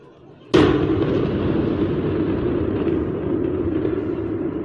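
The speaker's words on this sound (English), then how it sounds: "Large explosions were heard across the capital." A large explosion in a capital city during an air strike on air defense radar sites: one sudden loud blast, then a long rumbling roar that lingers and slowly fades.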